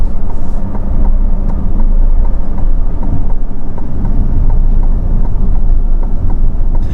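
A 2023 Chevrolet Corvette C8 Stingray 2LT with the Z51 package: loud, continuous low engine drone heard while driving, steady and unbroken from start to finish.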